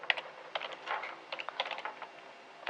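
Someone types on a computer keyboard close by in a quiet room, with quick, uneven bursts of clicking keys and short pauses between them.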